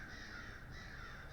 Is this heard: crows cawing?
yes